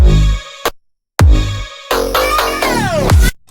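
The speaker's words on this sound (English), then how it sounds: "a key part to keep it interesting at the end of the 8 bars is this fill right here" A slap house drum fill closes an eight-bar phrase in a Brazilian bass style electronic track. Punchy hits with brief silent gaps lead into a dense, loud burst topped by a descending synth sweep.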